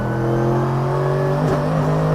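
Mercedes-AMG GT3 race car engine on the Nurburgring GP short circuit, a loud, steady close-up drone that climbs gradually as it accelerates, with a brief gear-change dip midway and no talking.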